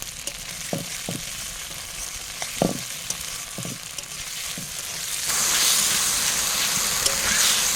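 A spice paste of garlic, chili, cumin and tomato sizzles and fries in a pan at an outdoor pondside cooking spot, with a steady hiss, a few scraping stirs early on, and the sizzle swelling louder near the end.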